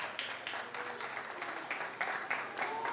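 Audience applause for children at a Resurrection Day prize distribution, a steady wash of many hands clapping at moderate loudness, continuous across the whole stretch with small swells.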